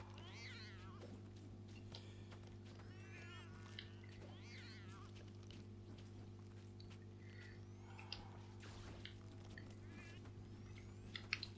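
Cats meowing in the video game Death Must Die, with repeated short, bright meows and yowls scattered over a steady humming game soundtrack, fairly faint throughout.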